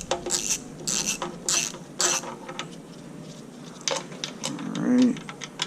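Ratchet clicking in quick repeated bursts while loosening the bolts and nuts on a B-series engine oil pan, with a short metallic squeak near the end.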